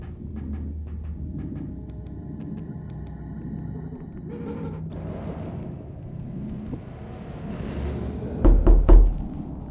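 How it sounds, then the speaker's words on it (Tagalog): In the video game R.E.P.O., a few heavy knocks on a door land near the end, loud and close, after a low rumbling background with scattered faint clatter. "may kumatok"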